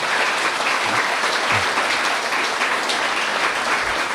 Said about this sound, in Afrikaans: Kom ons gee asseblief ons twee sprekers vir Dr. Victor en Dr. Dirk net weer 'n harde hande klap asseblief